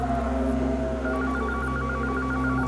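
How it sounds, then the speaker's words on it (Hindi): A telephone rings steadily and loudly in an indoor scene from a Hindi horror drama, its electronic tone repeating in a rapid pulsing pattern over a constant low hum. "फोन बज रहा है,"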